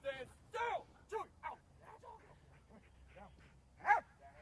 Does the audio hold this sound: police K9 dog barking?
yes